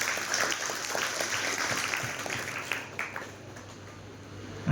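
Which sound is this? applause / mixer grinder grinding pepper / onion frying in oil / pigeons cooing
applause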